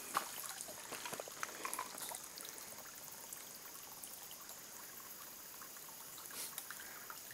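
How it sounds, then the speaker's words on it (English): A small stream running midway through a rural property trickles and burbles steadily, faint and continuous, with a few light splashes and no one speaking. "Hear the little trickle of the water."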